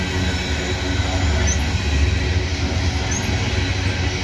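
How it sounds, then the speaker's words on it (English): An SCWX coal train hauled by ES44AA and CM44AC locomotives rolls past close by with a loud, continuous rumble of wheels on rail and faint high squeals. "That's the SCWX coal train."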